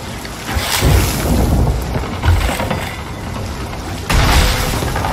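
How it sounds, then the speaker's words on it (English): Storm-driven ocean waves crash and surge around a boat in Sea of Thieves, with gusting wind roaring over broad, loud swells that swell and recede in uneven bursts. "Oh my goodness, the waves are right there."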